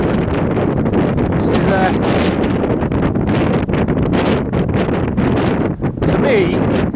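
Gusty wind buffets an outdoor microphone at a hillside site near Denbigh, North Wales, a loud constant roar with sharp bursts, under someone talking throughout.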